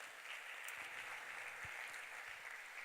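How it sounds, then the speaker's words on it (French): A church congregation applauds, a steady, fairly quiet patter of clapping that holds evenly throughout. "On peut acclamer la parole du Seigneur ce soir."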